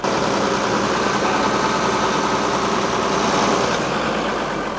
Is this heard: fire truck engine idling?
yes